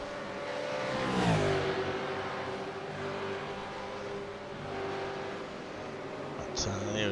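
V8 Supercars race cars brake into a chicane, engines dropping sharply in pitch as they slow and then holding a steady drone, with commentators talking over the cars throughout.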